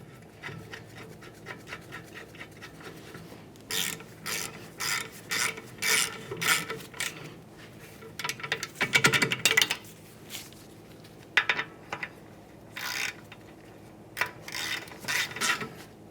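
Parking brake mounting bolts being tightened by hand and wrench on a 1999-2006 Chevrolet Silverado 1500, giving close, irregular bursts of metallic ratcheting and rasping clicks between quieter pauses.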